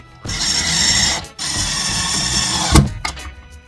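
A power screwdriver whirs in two long bursts while screws are tightened on a soft-close kitchen cabinet hinge, close and loud, followed by a few short clicks and clunks.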